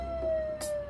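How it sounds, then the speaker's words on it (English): Ambulance siren from the film Rocky II, a sustained wailing tone that slides slightly downward through a short moment, with a burst of hiss midway. "I guess that ambulance must be for them."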